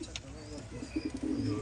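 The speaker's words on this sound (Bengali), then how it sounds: "বহুত বড় পায়রা, বিগ সাইজের পশ্চিমা" Big, large-sized pigeons coo in a low, throaty rhythm, close by and moderately loud, with brief faint chirps and some background noise mixed in.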